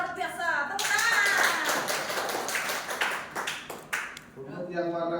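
A crowd breaks into a burst of hand clapping mid-clip, lasting a few seconds, with a voice speaking before and after the applause.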